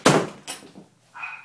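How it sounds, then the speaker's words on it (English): A door at home is swung shut with a single solid thunk, followed by a fainter knock and a short tonal squeak, heard close with no talking. "I'm just gonna help you by closing the door."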